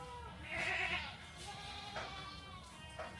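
Black goats on a farm bleat in a loud, wavering call near the start, followed by a few fainter bleats over quiet barn background.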